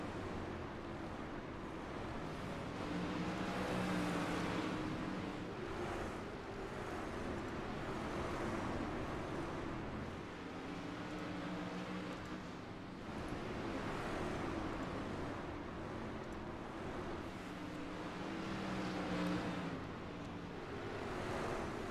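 Silver Crown race cars drive laps through traffic in iRacing, a steady roaring engine wash that swells and fades in long cycles, with no talking.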